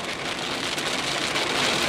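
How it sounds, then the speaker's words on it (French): Steady rain drums on a car's roof and windshield while driving toward a roundabout, a dense continuous hiss close by with no talk. "Ah, voilà la pluie maintenant."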